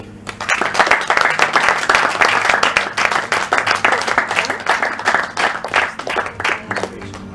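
A crowd at a high school graduation certificate ceremony claps loudly and steadily, the applause rising quickly and holding, then thinning slightly toward the end.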